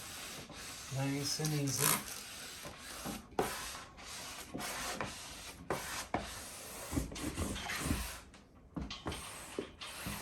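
Ceiling wallpaper is smoothed and pushed into place, close, repeated rubbing and brushing strokes in an uneven rhythm, with someone speaking briefly over them.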